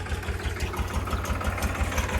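Tractor engine idling steadily while stuck on a muddy farm track, a close, continuous low rumble with a faint knocking pulse throughout.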